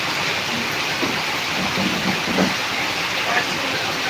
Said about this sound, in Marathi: मुसळधार पाऊस म्हणायचा का